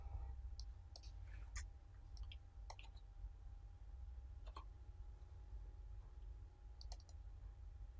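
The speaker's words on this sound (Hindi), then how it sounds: "इस पर मैं डबल क्लिक कर देता हूँ" Faint mouse clicks sound while video is edited in Filmora software, a few sharp, quiet clicks, some in quick pairs, scattered over a low steady background hum with no speech.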